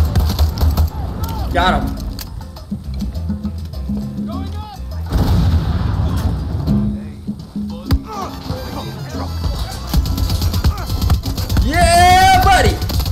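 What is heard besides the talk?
gunfire in the Far Cry 6 video game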